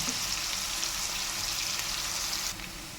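Onions with salt cook under a lid in a covered pan, giving a steady, close frying hiss that drops slightly in level near the end.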